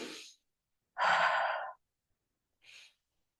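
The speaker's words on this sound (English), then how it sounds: "what I'm trying to do is just breathe" Heavy breaths taken during a Pilates reformer exercise for SI joint and low back relief: a short exhale, a longer strong breath, then a faint one, close and with no talking, separated by silences.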